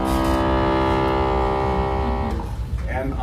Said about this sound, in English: This is the lowest pitch that the accordion has.